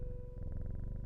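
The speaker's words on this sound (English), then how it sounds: "Oh, listen to him purr." Soft, continuous purring of a cat in the Strange Horticulture video game, a low rhythmic rumble pulsing steadily and close throughout the brief moment.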